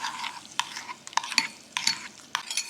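Spoon stirring 6 g of alum into hot water to dissolve it for wool dyeing, a run of light scraping clinks against the container, close and quiet, no talking.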